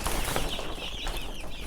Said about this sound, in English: So we're gonna be raising these chickens.